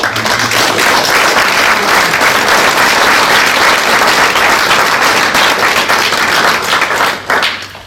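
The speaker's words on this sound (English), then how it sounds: "can we just give a round of applause to Bill?" Audience at a Horwich Rotary youth achievement awards evening breaking into loud, sustained applause for Bill, dense clapping that holds steady for several seconds before tapering off near the end.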